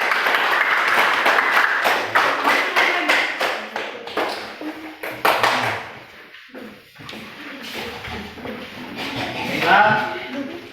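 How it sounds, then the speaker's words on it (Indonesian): A classroom of students claps together in a rapid, dense patter that fades after several seconds, followed by a quieter pause and then voices and room shuffling. "Pastikan tepuk tangan untuk yang terakhir."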